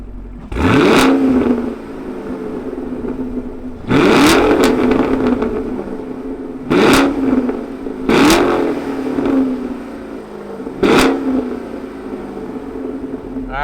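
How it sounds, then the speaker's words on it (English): A 2020 Chevrolet Camaro SS 1LE with a 6-speed manual fires up close by, then gives five loud, sharp throttle blips that rise and fall back to a steady, rumbling idle between them. "let's fire up this beast and hear what it sounds like"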